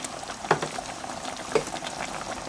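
Coconut milk simmering in a pan gives off a soft, steady bubbling hiss with small pops, close and quiet, with no voices.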